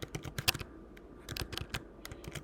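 Quick bursts of computer keyboard typing, crisp clustered key clicks with short pauses between runs, close and fairly quiet with no talking.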